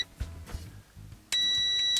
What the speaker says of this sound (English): take the trusty old multimeter, stick it into continuity mode